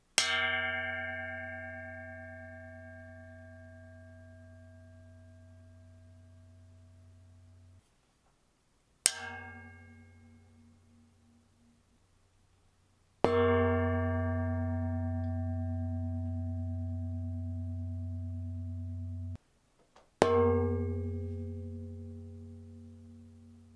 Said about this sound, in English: We'll compare the damped to the undamped tests with a stick, a rubber mallet, and a hammer.